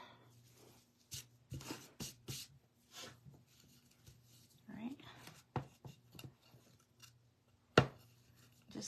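Scissors trimming craft fabric snip in short, irregular cuts at close range, with soft rustling between them and no talk.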